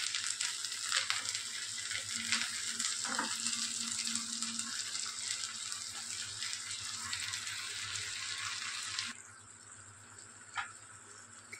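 Tomato puree hits a hot pan while cooking aloo do pyaza, giving a loud steady sizzle and frying hiss with a few stirring scrapes, then dropping to a softer simmer partway through.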